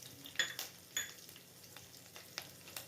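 Unpeeled garlic cloves and curry leaves sizzle in hot oil for a spicy prawn and potato curry: a quiet, steady frying hiss with a few sharp clinks near the start.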